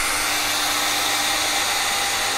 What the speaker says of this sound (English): you can hear, I can lower the power and increase the power of the hairdryer